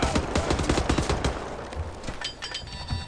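Rapid bursts of gunfire from Wolfenstein: The New Order crackle through the first half, a dense fusillade of overlapping shots that thins into sparser reports and game ambience by the end.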